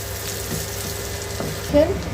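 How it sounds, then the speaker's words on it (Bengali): Onion frying in a pan at home, a low continuous sizzle with a brief clatter near the end, no speech over it. "এখন পেঁয়াজটা কিছুক্ষণ আমি ভাজবো"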